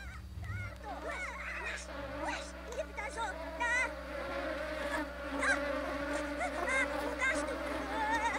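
Bees buzz in The Sims 2 video game, a continuous whining hum of several insects close by over a steady low background drone.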